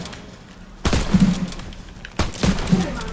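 Gunfire in a WW2 video game: two loud, sharp volleys about a second and a half apart, each followed by a rumbling tail over a low background.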